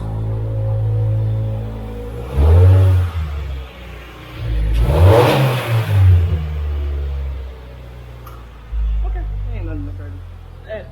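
A 2022 Subaru BRZ fitted with an HKS Super Air Filter revs up several times from idle, each rise in engine note swelling close by, with people talking between the revs.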